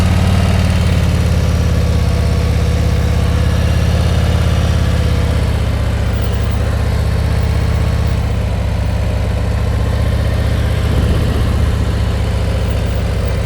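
Motorcycle engine held at steady throttle during slow-speed riding practice, a loud, close, continuous low rumble with an even drone that barely varies across the whole stretch.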